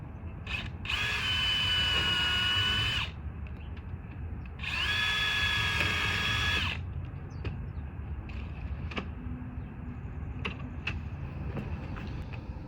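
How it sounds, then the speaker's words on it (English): A power drill pre-drills holes in a metal storm door, running in two loud, steady bursts of about three and two seconds with a pause between. Quieter clicks and handling noise follow. "so you gotta pre-drill all your holes."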